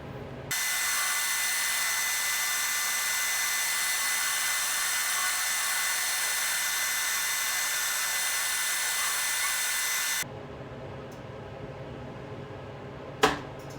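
A Comfort Zone CZ230ER 240V 7500W electric heater shutting off before reaching temperature: a steady loud fan-and-element hum runs for about ten seconds, then cuts out to quiet, followed by a faint tingling and one sharp click near the end.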